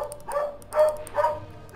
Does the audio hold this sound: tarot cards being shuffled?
no